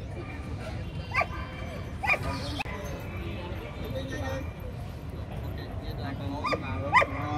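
German shepherd police dogs barking and yipping outdoors at a working-dog event, several short sharp barks and whimpers spread across the clip at moderate distance, over steady background noise with some voices.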